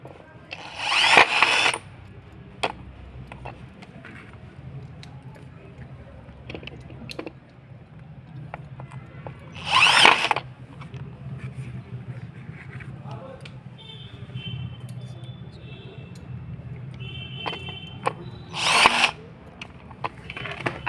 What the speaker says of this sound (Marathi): असं ही पीओपीची स्क्रू घ्यायचं, नंतरनं ड्रिल मशीन मध्ये लावायचं।